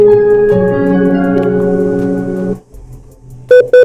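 A Geepas GMS11136 Bluetooth speaker with a 4-inch front driver plays a loud, steady tonal sound for about two and a half seconds, then drops to a low hum before two short loud bursts at the end.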